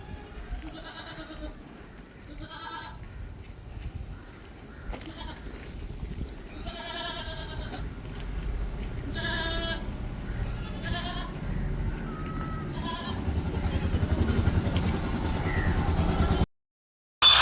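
Goats of Karoli, Hyderabadi and Beetal cross breeds bleat repeatedly, several calls overlapping at varying distances, over faint engine rumble in the background.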